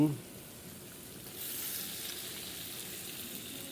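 Onion, garlic, ginger and garam masala frying in a pan, giving a faint steady sizzle that grows slightly louder and brighter partway through and carries on to the end.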